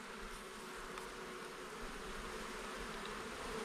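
Honeybees buzz as nuc frames are installed in a hive, a faint, steady, continuous hum of many insects close by without speech.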